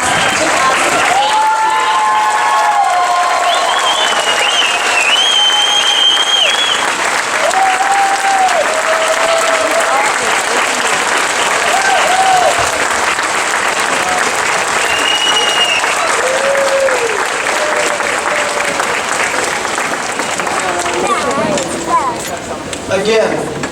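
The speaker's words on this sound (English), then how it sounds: "If our audience would please stand and applaud the Newark High School graduating class of 2008" Sustained applause from a standing audience at a school graduation send-off ceremony, steady dense clapping for over twenty seconds with cheers and whistles scattered through it, easing slightly at the end.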